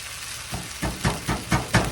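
Okra, tomato and rice cooking in a skillet over low heat, giving a steady close sizzle with soft rhythmic bursts of frying, no voices.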